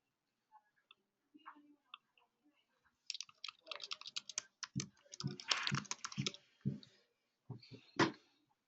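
Typing an email address into a phone app login, a faint quiet start of scattered taps, then a dense burst of rapid close clicks with a few louder keystrokes near the end, no talk.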